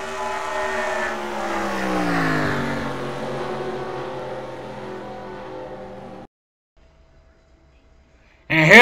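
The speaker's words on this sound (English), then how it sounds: "Jeremy Britt gets into the back of Red Bell. And that causes Red Bell to slide in the back straightaway" Race trucks in a NASCAR truck series racing video game sliding in a wreck on the back straightaway, a loud sustained engine roar with shifting pitch that cuts off abruptly, followed by near silence and a sudden loud burst at the end.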